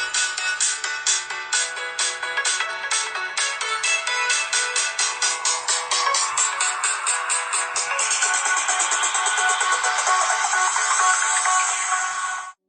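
A ringtone plays through the rear speaker of an ASUS Zenfone 2 Laser smartphone, a bright, thin repeating melody with rapid note patterns that changes section partway through, steady and moderately loud, then cuts off abruptly.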